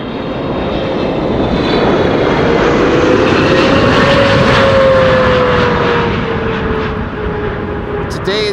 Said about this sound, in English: This is KLM flight 792, 777-300 arriving from Sao Paulo.